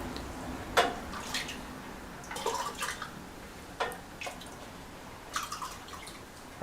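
Tea with large wintergreen leaves being ladled from a pot into a white mug: several soft splashing pours and drips, brief liquid bursts spaced a second or two apart against a quiet room.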